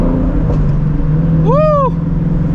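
Ford Mustang Shelby GT350 engine rising in a short sharp rev over a steady loud idle rumble, a single climbing and falling burst up close.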